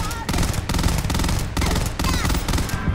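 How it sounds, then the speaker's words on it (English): Video game gunfire in Starfield arrives as repeated bursts of loud rapid shots, cut by short pauses, close and dominant with no talk over it. "You're still shooting at me."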